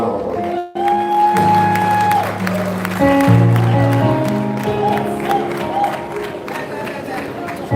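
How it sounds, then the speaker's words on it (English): An audience at a 60th birthday symposium applauds over sustained music, with crowd noise and clapping mixed under the tones and a brief dropout near the start. "Please give him a round of applause."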